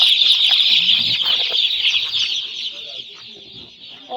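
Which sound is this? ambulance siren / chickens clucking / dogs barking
chickens clucking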